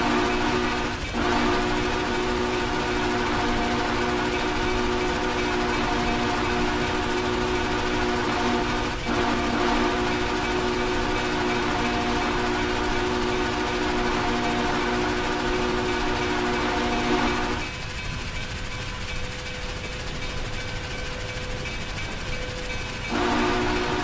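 A steam locomotive in the Railworks train simulator chugs along with a steady mechanical rumble and tonal hiss, interrupted by a short whistle blast, with no speech.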